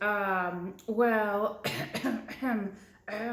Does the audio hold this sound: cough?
yes